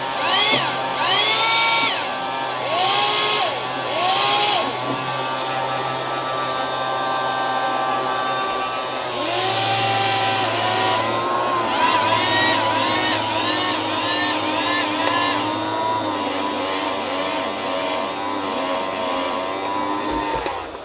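Zhi Lun RC hovercraft toy's small fan motor whirring loudly and close, its high whine rising and falling in pitch as it is throttled up and down over a steady hum.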